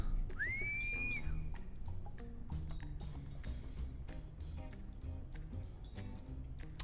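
A whistle ability fires in the video game Mewgenics, a single bright rising-then-falling whistle tone near the start, followed by sparse clicks and ticks over a quiet game backdrop.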